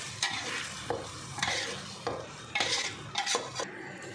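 Cooked rice being mixed into fenugreek leaf bath in a pan, heard as a run of close spoon scrapes and clinks against the metal in an uneven rhythm with a faint sizzle underneath.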